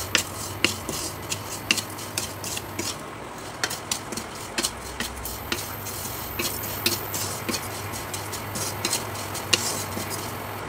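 Lachha semai vermicelli frying in ghee is stirred with a spatula that scrapes and clicks against the pan in irregular taps, over a soft, steady background.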